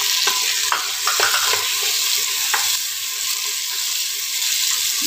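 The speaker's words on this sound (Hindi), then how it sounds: "और ये 2 टमाटर जिसे हमने बड़े साइज में काटा है, इसे भी इसमें डाल लेंगे और इसको भी फ्राई कर लेंगे।" Green chillies and large-cut tomatoes frying in a pan, a steady bright sizzle with several sharp clicks and spatters early on, close and without talk.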